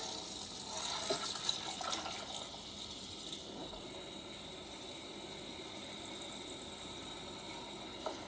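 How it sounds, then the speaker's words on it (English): Water runs from a kitchen tap into a pot of potatoes, a steady hissing gush with a rising fill tone, continuous and close with no talking. "Cover your potatoes with water, and then you just need an inch or two for the kale."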